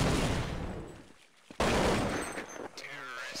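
Rapid bursts of rifle fire ring out in a Counter-Strike match on the de_mirage map, sharp close shots followed by a trailing echo, with an excited commentator's voice over the action.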